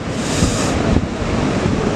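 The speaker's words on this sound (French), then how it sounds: "Vent qui s'est levé quand même, hein, c'était prévu, nord-nord-ouest" Ocean waves roll in at a surf beach under strong north-northwest wind, a dense roar with a broad surge of surf and buffeting wind noise.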